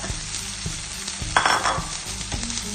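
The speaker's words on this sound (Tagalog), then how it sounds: "Tumatalsik yung mantika." Cooking oil spattering and sizzling hard in a hot pan, loud and steady, with sharp pops and clicks of stirring throughout and a brief burst of heavier crackle midway.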